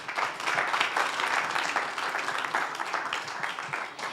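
An audience claps after a startup pitch at a health-tech investor summit, a dense, steady round of applause lasting several seconds and tapering slightly at the end.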